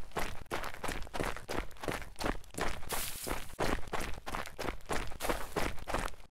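Steady footsteps crunch on a dirt road, close and brisk, each step clearly separated in a regular walking rhythm.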